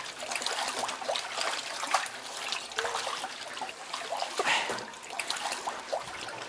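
Sourdough leaven being stirred and loosened by hand in water, with wet sloshing, trickling and squelching in irregular bursts, close up and without speech.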